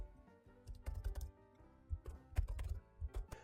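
Keys clatter on a computer keyboard in quick bursts as a web address is entered into a browser search bar, close and fairly crisp, with short pauses between runs of keystrokes and no voices.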